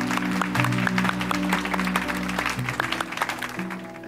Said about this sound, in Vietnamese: Dành một tràng vỗ tay để cảm ơn Vũ Hải đến với cuộc đời này